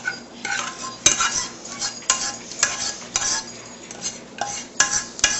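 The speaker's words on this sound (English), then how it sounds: "Come over here, mix it in with the spaghetti." Spaghetti being stirred in a metal pan with a utensil, giving repeated scraping clinks and soft stirring strokes at close range, with no talk.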